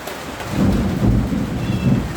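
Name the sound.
thunder with rain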